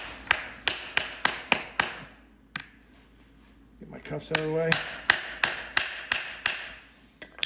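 Sharp metallic hammer taps in quick bursts, close by, driving stud inserts into a urethane hoof boot, with a short pause and a brief spoken remark in the middle.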